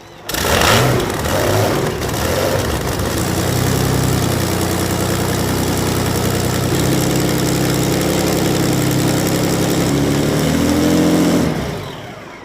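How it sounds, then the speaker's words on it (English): A hydroplane race boat engine fires up with a sharp burst, then settles into a loud, rough, sustained idle heard up close, holding steady for about ten seconds before cutting off abruptly. "They're going to start up the engine. It's going to be loud."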